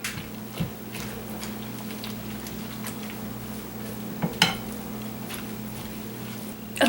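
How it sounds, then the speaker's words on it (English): A spoon stirs gluten-free cornbread stuffing mixed with eggs and broth in a bowl, producing soft, wet squishing and scraping sounds with a few light clinks against the dish, close by, with a low hum in the background. "I'm going to start stirring that."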